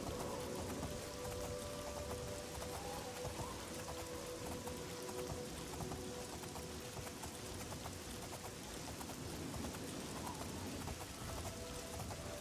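Steady rain falls in Oblivion, a dense, constant hiss of drops with no letup and no voices over it.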